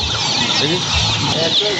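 Chicks and chickens at a poultry market in Dhaka keep up dense, continuous cheeping and clucking, close and loud, with a crowd murmur beneath.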